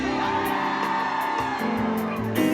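Excited crowd on the Jamrock reggae cruise, women whooping and screaming together in a loud sustained roar with music underneath, a fresh burst of yells rising at the end.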